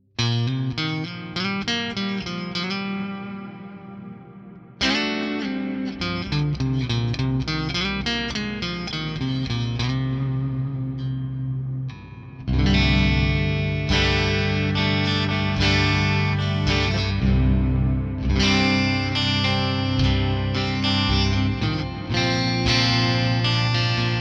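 Mayones Duvell Elite electric guitar played in split coil position, a loud run of chords and melodic lines with chorus and echo effects and a heavier distorted section in the second half, no voice.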